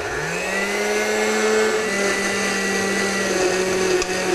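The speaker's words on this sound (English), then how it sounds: "we're going to take a big bowl of watermelon and just put it in a blender." A blender whirs loudly and steadily as it purees watermelon, its motor pitch rising briefly at the start and then holding a constant drone.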